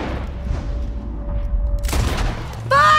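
A single gunshot in Red Dead Redemption 2 breaks in abruptly after a quiet stretch, a sharp close blast followed by a brief ringing tail.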